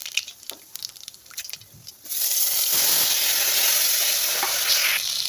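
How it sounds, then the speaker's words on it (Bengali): Nigella seeds dropped into hot oil as tempering for a pabda fish curry: a few clatters and taps, then a sudden loud, sustained sizzle and hiss that fills the rest. "কালজিরা সম্বাদ দিলাম,"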